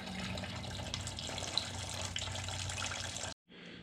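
Coolant pours steadily from the radiator drain plug of a 1998 Buick with the 3.8 engine, a continuous close splashing stream that cuts off abruptly near the end, then resumes more faintly.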